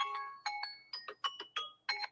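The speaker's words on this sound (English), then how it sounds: "There's the bell." Electronic chime marking the end of a live comic book auction, sounding as a series of bright tonal dings in quick succession, clear and fairly close with no talking.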